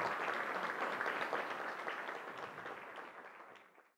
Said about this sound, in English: please join me, if you would, please, in a round of applause for our panelists.